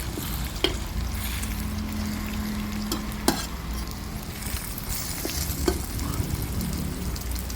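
Three eggs fry in a pan for stir-fried pickled mustard greens, giving a steady close sizzle with occasional light clicks of a spatula.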